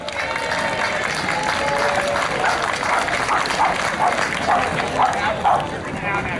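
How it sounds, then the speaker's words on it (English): A crowd at an outdoor Monterey historical landing reenactment applauds to welcome the Monterey Community Band, steady clapping and cheering with voices and a dog barking mixed in. "let us receive them with a warm round of applause."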